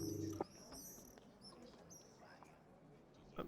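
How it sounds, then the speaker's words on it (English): Birds chirp and tweet in high, short repeated calls, with a cooing note, running through an animated background loop while people talk faintly nearby. "I think the birds are on the animated background."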